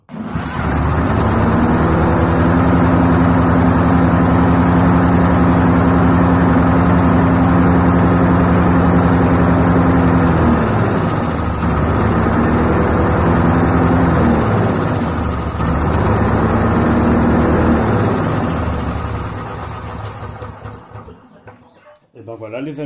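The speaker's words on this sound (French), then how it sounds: "J'espère que ce démarrage de machine, qui n'a même pas fumé, qui n'a rien du tout, bah, il est super" A Subaru engine on a 1997 Snapper lawn mower (ECLP21) runs with a loud, steady, close-up putter and hum, wavering slightly midway before trailing off near the end.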